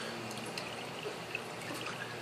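Water gurgles and rushes steadily through the siphon of a hydroponic growing system as it begins cutting off, close and unbroken.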